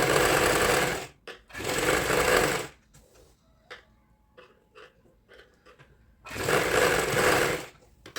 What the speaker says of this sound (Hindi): अब इसको मैं अंदर की तरफ पर एक सिलाई लगाऊंगी